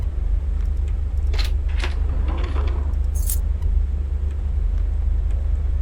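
Keys jangle in the Graveyard Shift video game, a few bright metallic bursts over a steady low game drone, with no talking.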